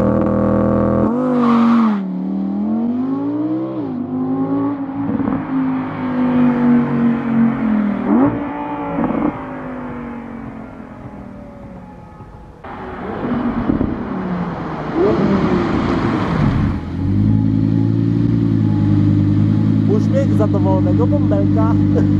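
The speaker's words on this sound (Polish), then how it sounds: "A teraz zobaczcie launch control z zewnątrz," An Audi R8 Green Hell Edition with a 5.2-litre 620 hp V10 does a launch control start, heard from outside: a loud revving build, then a roaring acceleration through rising gear pulls, with talk over parts of it.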